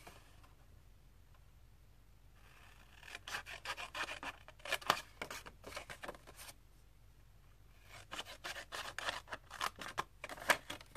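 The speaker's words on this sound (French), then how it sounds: "Avec la paire de ciseaux, donc ma diagonale est ici. Je vais venir couper ce trait ici." Scissors snipping through card paper for a pop-up card, a close run of quiet, crisp cutting strokes in two bursts after a near-silent start.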